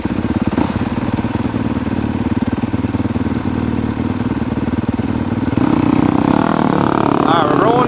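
A motorcycle engine runs close by with a steady idling rumble, rising a little in the final seconds, while a person talks over it.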